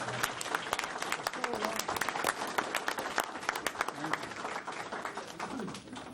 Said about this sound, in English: I would like to suggest a round of applause for this incredible individual here